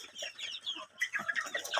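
Fayoumi chickens on a poultry farm in Taraganj, Rangpur, clucking and calling continuously, a busy overlapping chorus of nearby birds at moderate volume with no voices.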